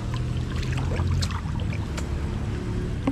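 Several boat motors run on the water during a tilapia fishing outing, a steady low droning rumble that stays constant throughout, with faint splashing and trickling water layered on top.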